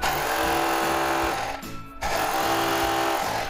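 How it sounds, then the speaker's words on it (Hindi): A power drill fitted with an 8 mm bit bores a hole in a wall for a TV or monitor mount, making a loud, steady grinding whine that dips briefly midway and then resumes. "मैं अभी 8 एम mm का बीट यूज़ कर रहा हूँ तो यहाँ पे दो हमें सिर्फ सिंपल सा हॉल कर लेना है"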